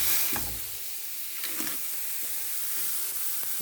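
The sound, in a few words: beef burger patty sizzling, pressed in a pan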